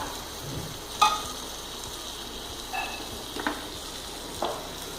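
Prawn masala for a prawn biryani sizzles steadily in a pan at low volume, with a few soft clicks and scrapes from stirring.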